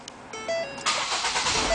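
A 2011 Ford Focus engine cranks briefly and catches after a remote starter is triggered, settling into a steady close idle that runs to the end with no talk over it.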